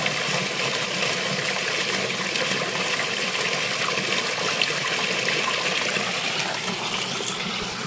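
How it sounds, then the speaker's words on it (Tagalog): Water drains from a concrete tilapia pond as a steady, rushing gush and trickle, continuous and fairly loud and close, with no voices. "So dyan po namin binubuksan pagka po i-drain namin."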